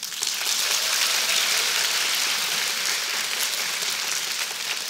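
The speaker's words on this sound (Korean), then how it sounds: "박수로 환영해 주세요" An audience applauds to welcome a flight demonstration team at a stage talk. The clapping is dense and steady, a hiss-like wash of many hands that continues without a break.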